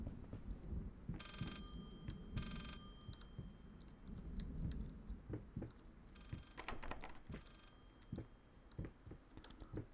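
Telephone ringing inside the video game Layers of Fear, with two short bursts of bright bell-like trilling early on and a second pair later, mixed with clicks and thuds, with no talk.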